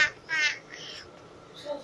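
A small child imitates a crow's caw with harsh, nasal squawks, two or three short calls repeated against a quiet room background.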